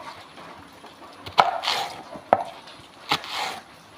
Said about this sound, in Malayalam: ചേമ്പും തണ്ട് എരിയാണ് കേട്ടോ